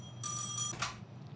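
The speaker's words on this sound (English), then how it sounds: "Well, I hear a phone, so that's good for me." In the video game Trails in the Sky the 3rd, a telephone rings with a short electronic trill in two quick bursts over a low steady background hum, with no talking.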